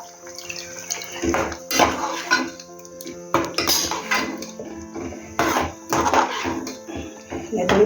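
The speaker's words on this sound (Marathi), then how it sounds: "मिक्सरच्या भांड्यामध्ये पण मसाला होता ना मग ते भांडे धुवून टाकते" A mixer grinder jar with leftover masala rinsed out under running water, with splashing, clinks and knocks of the steel jar against a sink in short bursts, and someone talking over it.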